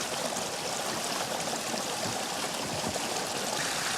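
A stream flows in a steady, dense rush of water, close and continuous, with a faint trickling texture and no voices.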